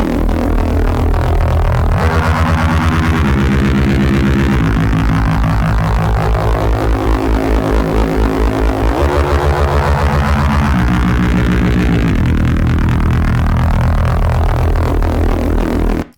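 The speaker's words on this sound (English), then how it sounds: "how I made a dope Reese in Serum" A thick, detuned Reese bass made in Serum 2 drones continuously, its pitch sliding between notes in a slow repeating pattern, loud and alone.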